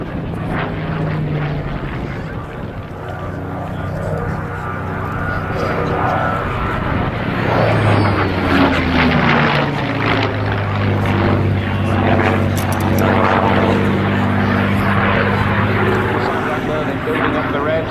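A Bristol Blenheim propeller aircraft makes a knife-edge display pass at an airshow at Bicester. Its loud, near engine drone swells and then slides down in pitch as it goes by, while an announcer talks over it.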